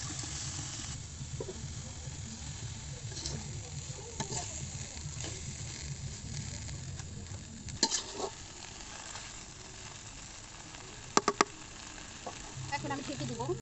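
Green taro tossed into a hot pan and stirred, a steady sizzling hiss running under the whole stretch, broken by a few sharp clinks of a utensil against the pan.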